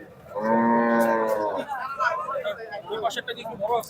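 One of two very large crossbred cattle at the Hazratpur cow market gives a loud, close moo lasting about a second, followed by people talking amid the noise of the market.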